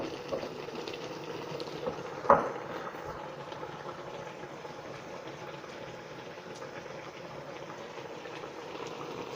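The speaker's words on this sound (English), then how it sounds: "So I have to allow them simmer before I add my red oil" Egusi soup with stockfish and smoked fish simmers in a pot, giving a soft, steady bubbling hiss throughout with one brief louder knock early on, and no talking.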